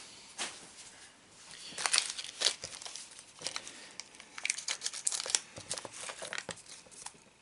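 Foam packaging is handled up close while a car kit is being assembled, giving soft crinkling and squeaky rustles in irregular bursts with brief pauses.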